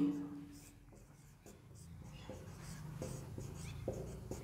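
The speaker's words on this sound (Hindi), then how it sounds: "देखो इधर मैं यहाँ पे लिख रहा हूँ" Chalk or a marker writes on a board during a classroom lesson, with soft scratching strokes and taps in an uneven rhythm. A quiet voice murmurs underneath.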